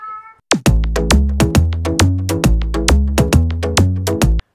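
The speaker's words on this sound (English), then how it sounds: "All my videos are interrupted by the cat these days." A house cat meows repeatedly and loudly close by, a rapid run of about a dozen insistent cries with no other sounds.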